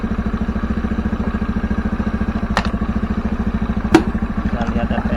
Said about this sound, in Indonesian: Kita lihat RPM nya, dia di angka 1500 sampai 1600an. Mesinnya nggak mati ya.